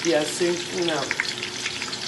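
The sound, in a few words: onions frying in a pot for jollof rice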